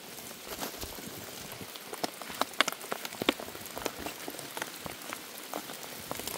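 Steady monsoon-season rain pattering on surfaces outdoors, a dense hiss dotted with sharp individual drop ticks, close and continuous with no voices.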